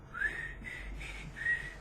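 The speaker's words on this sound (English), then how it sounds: "I've been whistling" A man whistles a short melodic tune, the closing whistle of the original EastEnders theme, as three or four sustained clear notes over a steady low room hum, close and moderately loud in an arts centre interview room.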